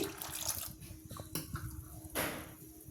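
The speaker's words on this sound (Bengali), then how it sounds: "এতে আমি আরও এক কাপ জল দিচ্ছি" A cup of water being poured into thick batter resting in a bowl, giving a short splashing gush and wet squishing, faint and close, with a louder splash near the end.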